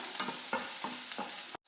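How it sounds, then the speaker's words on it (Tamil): Onion and garlic stirred and sautéing in a pan for kaara chutney, soft sizzling with a few rhythmic scraping stirs, close and steady, ending abruptly. "இது 2 சேர்த்து நல்லா வதக்கிடுங்க."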